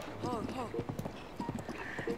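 Horse hooves clip-clop in Zelda: Breath of the Wild, a quick run of close, steady hoofbeats mixed with game sounds and a short whinny-like tone, with voices talking over it.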